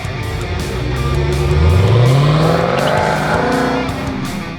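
A 2019 Dodge Challenger R/T 392 Scat Pack Widebody being driven, its loud engine roaring and revving up as it accelerates, with a rising tone and some tire noise, heard close and alone.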